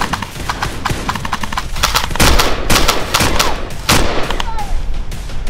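Rapid gunfire from a staged combat scene, a run of sharp cracks in bursts, loud and close, with a few heavier reports, while people move and shout nearby.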